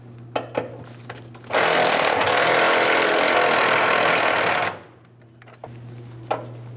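A power tool with a 10mm socket spins out a brake-hose bracket bolt under a 2015-2025 Ford Transit 250. It makes one loud, close, continuous whirring burst of about three seconds, with quiet clicks and handling noises before and after.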